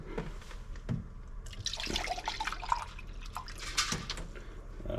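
Distilled water poured into a measuring cup for a bacon curing brine, heard as an uneven run of close, light splashing and dripping over a quiet background for about five seconds.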